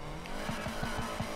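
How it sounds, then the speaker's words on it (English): A car doing a burnout in the racing game Need for Speed Heat, a loud close engine roar with rapid rhythmic pulsing and tire noise, with no voices. "yo, I forgot you can, like, do burnouts"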